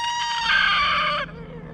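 Chickens on an off-grid homestead give a loud, close crow-like call with a harsh, strained tone, lasting about a second, followed by a softer cluck as it trails off.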